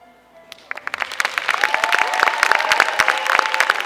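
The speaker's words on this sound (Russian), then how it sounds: "Ваши аплодисменты, друзья." Applause breaks out after a student's poem recital at a freshman debut show, starting with a few scattered claps over a fading musical tone and swelling into steady clapping from the audience.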